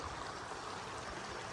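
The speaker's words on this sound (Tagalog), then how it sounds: "may tubig na lang gagaling dyan sa bundok na yan" Water flows down from the mountain at Nakhal Hot Spring in Al Batinah, Oman, a steady, even rushing like a stream, heard alone without voices.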